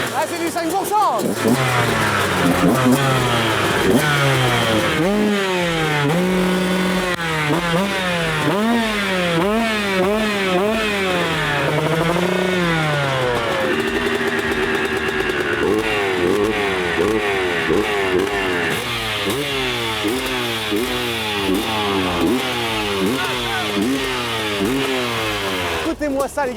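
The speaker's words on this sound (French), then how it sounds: "Écoutez-moi ça les gars, ça c'est un vrai bruit de moto" A 491 cc motorcycle engine revs repeatedly, rising and falling in loud, close bursts with a throaty rumble throughout.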